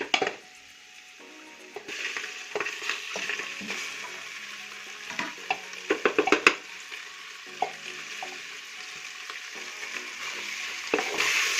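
Mutton pieces hit hot fried onions in a pan for a Saoji-style Nagpuri mutton curry, giving a steady close sizzle broken by scraping and clinks as the meat is dropped in and moved around.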